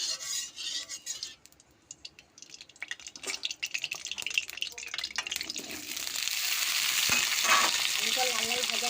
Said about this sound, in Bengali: প্রথমে আমি আলুটাকে ভেজে নেব